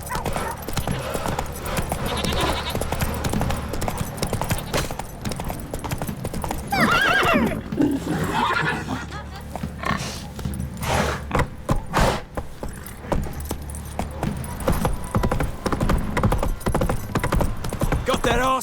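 Roach, a horse in The Witcher 3, trots with steady clip-clop hoofbeats and lets out a loud neigh midway, with faint jangling tack and speech in the background.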